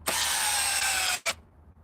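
A DeWalt power drill drives in with a loud, high whirring spin that runs steadily for over a second, cuts off, then gives one short second burst, close to the microphone.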